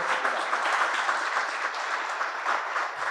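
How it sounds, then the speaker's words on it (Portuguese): A seated audience at an online-streamed municipal lecture gives the professor a round of applause, a steady, moderately loud patter of many hands clapping continuously. "Uma salva de palmas para o professor."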